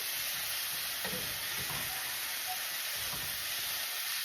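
Leftover chicken cooks in a pan with a constant loud hiss of frying and sizzling, while a few scraping stirs of a utensil come through close up, no talk.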